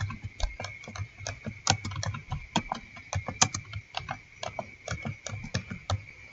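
Fingers type rapidly on a computer keyboard while entering data into a statistics program, producing dense, uneven clicking keystrokes with occasional heavier taps, close and clear, with a faint steady hum behind them.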